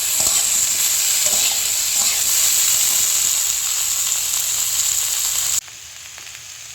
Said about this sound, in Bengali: এবার বাঁধাকপি ও কুমড়োগুলি একটু ভেজে নেব, যাতে বাঁধাকপির গন্ধটি চলে যায়